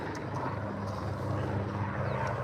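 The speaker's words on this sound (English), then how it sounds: "Look, you see the helicopter at the top?" A faint, steady low engine drone of a helicopter somewhere overhead, distant and continuous beneath light background noise.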